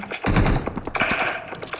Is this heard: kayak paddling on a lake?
no